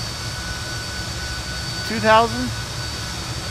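An airliner sits on the runway in a flight simulator game, its engines giving a steady, even hum throughout while someone speaks briefly over it.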